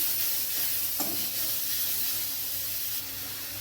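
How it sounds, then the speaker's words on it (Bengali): Grated carrot sizzles in ghee in a pan while a spatula stirs it, a steady frying hiss with a soft scrape around the middle and no talking. "গাজরটা আমি খুঁটি দিয়ে একটু ভেজে নেব"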